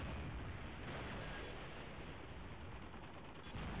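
A Reaper missile explodes in Modern Warfare 3, a dense rumbling blast and roar that fills the whole stretch, heavy and continuous, with no voices over it.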